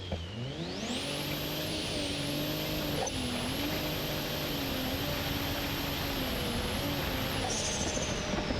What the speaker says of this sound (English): I need to turn the volumes down on the turbo, but as you can tell, it's got a turbocharged 6-cylinder.